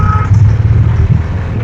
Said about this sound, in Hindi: यहाँ पे देखें कितनी ज़्यादा ट्रैफिक है।